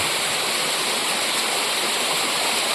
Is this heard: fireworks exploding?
no